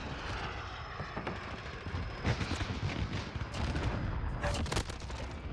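In the video game Call of Duty: Modern Warfare, a VTOL gunship fires from above, a steady aircraft engine drone with repeated bursts of rapid gunfire and sharp impacts layered over it during an online match.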